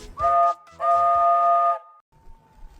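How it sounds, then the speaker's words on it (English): A loud harmonic steam train whistle from a Roblox railway game sounds twice, a short blast then a longer sustained one, followed by a faint fading tone over low rumble. "Presently, he heard a whistle."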